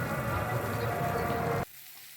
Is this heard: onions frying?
yes